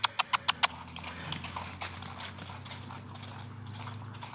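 Horse hooves clip-clopping in a quick run of five sharp, evenly spaced beats at the start, then softer, irregular hoof sounds over steady low background noise.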